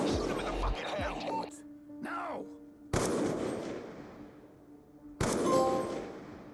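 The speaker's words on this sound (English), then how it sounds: "I'm gonna shoot him in the leg twice." Gunshots in the Call of Duty Black Ops 2 video game: a few sharp, loud shots with gaps between them, each followed by a fading reverberant tail, with game sounds around them and no talk over the shots.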